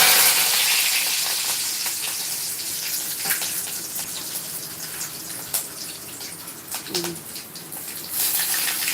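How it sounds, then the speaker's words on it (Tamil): Mustard seeds spluttering in hot oil while tempering for beetroot and sambar. A close, steady sizzle is dotted with sharp pops and crackles throughout. "கடுகு நல்லா பிரிக்குது"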